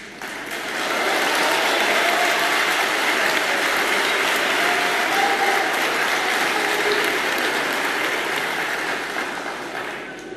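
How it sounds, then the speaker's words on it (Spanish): A large crowd at a political speech in Argentina bursts into sustained, dense applause that swells after a second and holds steady and loud for nearly ten seconds. "Por si no se escuchó por los aplausos"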